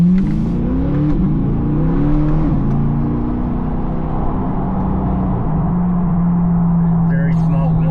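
A Chevrolet C8 Corvette accelerates hard, its engine note climbing steadily and loud from the cabin, with a person talking over it throughout.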